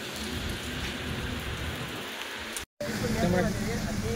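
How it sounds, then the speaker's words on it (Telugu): Steady rain falling outdoors by a house during a tense gathering, a dense close hiss that cuts out briefly partway through, with faint voices underneath afterward. "వర్షం ఉంది, వర్షంలో ఉంది."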